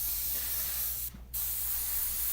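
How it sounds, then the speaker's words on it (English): An airbrush sprays paint for shading in a steady, soft hiss that runs throughout, with one brief pause near the middle before the spray resumes. "the sharper the angle of our airbrush, the less it hits"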